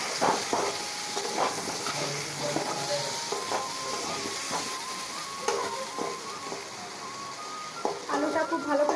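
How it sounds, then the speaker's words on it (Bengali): Potatoes fry in hot oil in a pan, a steady sizzle with scattered stirring clicks and scrapes running throughout at close range, no talk over it. "এদিকে আমাদের আলুটা ভেজে চললো।"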